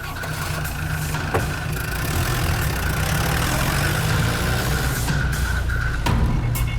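A scooter engine idles steadily and close by, a continuous low rumble throughout with no voices.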